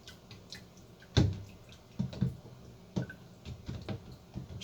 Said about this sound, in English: Just letting it drip out a little bit.